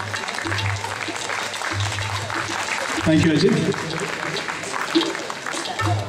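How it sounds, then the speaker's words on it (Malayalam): Audience applause honouring Ajith at an Onam stage event, a broad clapping wash that swells around the middle under a voice speaking over a microphone. "നല്ലൊരു കയ്യടി കൊടുക്കും"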